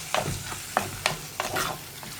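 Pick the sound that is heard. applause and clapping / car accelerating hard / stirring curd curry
stirring curd curry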